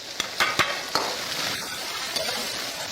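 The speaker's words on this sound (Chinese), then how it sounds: "下入牛肉，炒拌均匀" Beef chunks sizzle in a wok of hot oil and chili bean paste, with a few sharp scraping clicks from the spatula early on over a steady, close frying hiss.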